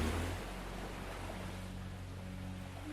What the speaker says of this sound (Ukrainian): Хвилі приносять спокій і забирають всю-всю-всю-всю напругу з очей.